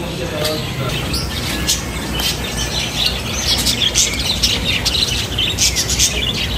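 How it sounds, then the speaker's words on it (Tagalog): Lovebirds chirp and tweet continuously in a busy, dense chorus near a hotel in Tacloban, with scattered high squeaky calls over a steady wash of background noise. "Ayan, daming lovebirds."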